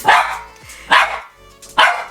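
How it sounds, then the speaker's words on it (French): A dog indoors gives three loud, close barks, evenly spaced with short pauses between them. "je sens qu'elle va aboyer"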